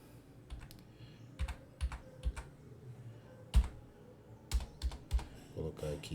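Computer keyboard typing on a Linux shell scripting setup, irregular bursts of clear key clacks close up, alone with no talk.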